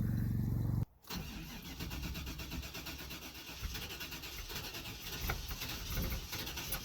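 A Cadillac Fleetwood engine cranks briefly, cuts out, then catches and runs roughly, a steady close mechanical drone with rising and falling revs.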